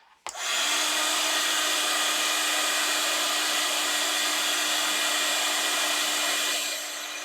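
An embossing heat tool heat-setting powder on craft pages switches on abruptly and blows a loud, steady whirring hiss up close, running continuously before easing slightly at the end.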